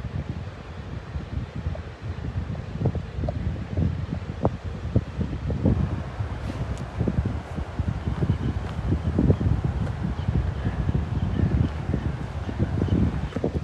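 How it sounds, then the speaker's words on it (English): Strong wind blowing outdoors by the water, a continuous rumbling gusty roar buffeting the microphone throughout, with no clear talking. "There's quite a bit of wind,"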